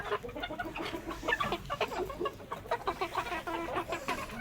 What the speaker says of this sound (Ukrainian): Півничок такий